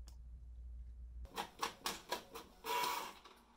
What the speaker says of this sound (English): then you'll wanna send it to the printer